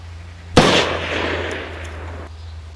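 A single loud gunshot from a video game weapon cracks out suddenly, then a reverberant tail fades over about two seconds above a steady low hum.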